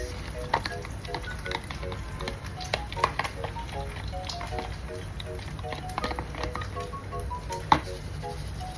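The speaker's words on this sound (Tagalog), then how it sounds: "magsasangag tayo ng kanin at egg" Rice and egg fry in a pan for salty fried rice, giving a steady close sizzle with scraping stirs and occasional clinks of the utensil against the pan.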